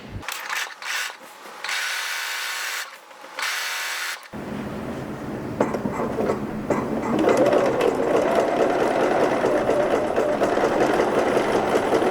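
A sewing machine topstitches a pressed seam on a linen pullover top, with short loud bursts of stitching at first, then a longer continuous run over rustling handling noise.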